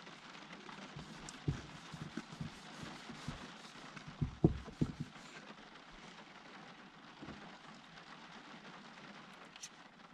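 Heavy rain patters on a car roof as heard from inside the vehicle, a soft, steady wash punctuated by a few dull thumps, quiet and continuous throughout.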